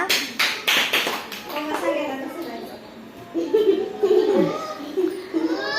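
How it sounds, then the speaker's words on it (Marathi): Children clapping for a winner in a playful game, a burst of quick claps at the start and then scattered claps, with chatter and giggles from kids. "जिंकला टाळ्या वाजवा"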